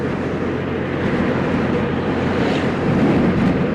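A 2019 Yamaha FJR1300 AE motorcycle cruising in sixth gear at about 30, giving a steady low engine drone mixed with heavy, continuous wind rush at the microphone.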